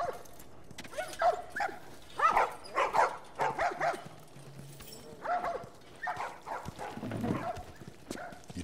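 A dog in The Last of Us Remastered barks and yips in short repeated bursts at moderate distance, with a faint low hum underneath.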